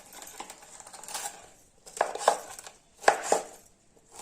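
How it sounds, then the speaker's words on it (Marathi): A knife finely chops rolled bharangi leaves steadily on a board in quick clustered strokes, close and crisp, with no talking. "अशी गुंडाळून त्यांना बारीक बारीक चिरायची"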